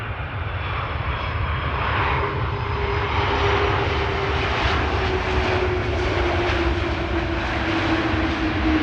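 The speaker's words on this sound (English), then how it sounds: "This is KLM flight 696, arriving from Toronto, A330-200." A KLM Airbus A330-200 arriving at Amsterdam Schiphol from Toronto, its engines roaring loud and steady throughout, with a rising whine sustained over a broad rumble and no voices.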